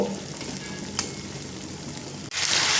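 Potato pieces sizzle loudly in hot oil and spice masala during a Bengali home cook's egg and pointed gourd curry, with a steady frying hiss and light stirring and a brief louder burst near the end.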